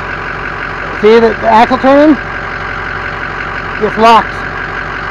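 A Ford F250 truck engine runs at a steady idle, a low constant rumble beneath the whole clip while someone speaks briefly twice over it.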